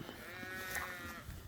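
A ewe, one of a flock of hungry ewes kept off buttercup pasture, gives a single drawn-out wavering bleat, moderately close, with faint farm background around it.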